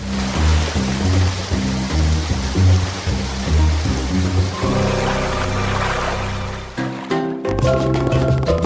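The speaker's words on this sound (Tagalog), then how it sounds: "At nagsimula ng umulan para sa manika." Toy rain pours water into a doll's pool, a continuous splashing stream under loud, steady tonal music that drops out briefly near the end.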